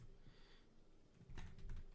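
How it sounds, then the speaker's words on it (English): Quiet typing on a computer keyboard, a faint scattering of key taps that grows into a denser, slightly louder burst of clicks toward the end, with no one speaking. "My typing, guys."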